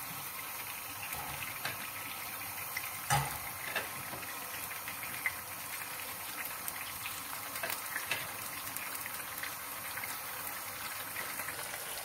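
Potatoes frying in oil in a pot for lubia polo, a dense continuous sizzle and crackle with a brief clunk of turning, steady and close throughout without speech.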